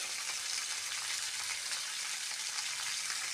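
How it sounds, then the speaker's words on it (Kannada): Half a spoon of cumin seeds sizzles in hot oil with a steady, close, hissing fry that holds even throughout, with no talking. "ಅರ್ಧ ಚಮಚ ಜೀರಿಗೆಯನ್ನು ಆ್ಯಡ್ ಮಾಡ್ತಾಯಿದ್ದೆ"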